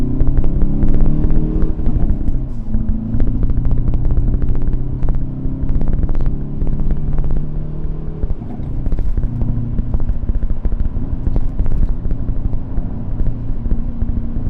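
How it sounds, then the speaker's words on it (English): A Hyundai Veloster N engine drones and rumbles steadily with exhaust burble, pitch rising and falling as it shifts and accelerates, loud and close, with wind noise throughout. "I just want you guys just to hear what the car sounds like"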